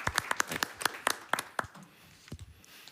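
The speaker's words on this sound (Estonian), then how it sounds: "plaksutame ka" An audience at a panel discussion gives a short burst of brisk clapping, many hands close together, which thins out to a few scattered claps and then goes quiet.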